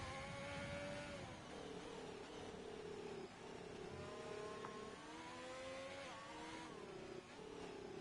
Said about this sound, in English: We've got one heading out onto the racetrack. That'll be the Alfa Romeo of Vamu